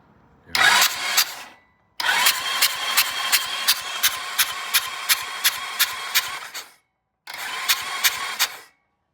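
A Black Norton motorcycle engine starting on the button after a cylinder head install: three loud close bursts of rapid, evenly pulsing cranking and firing, separated by short silent gaps, with no talk.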